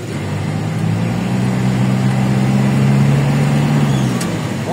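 City traffic crawling through Manila at dusk, with a close, steady low engine drone and idling cars rising slightly and then easing, no voices.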